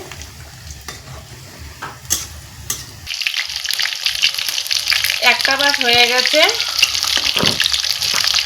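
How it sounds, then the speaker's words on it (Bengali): Pointed gourd chops fry in hot oil, a quiet start giving way to a loud, dense, continuous sizzle up close, with a brief voice speaking over it. "এইভাবে উল্টো পাল্টা করে আমি চপগুলো ভেজে নেব"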